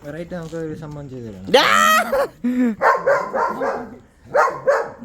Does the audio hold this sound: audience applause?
no